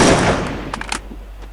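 A burst of Free Fire video game gunfire, loud and close, with a heavy blast fading into a few quick rapid follow-up shots over about a second and a half.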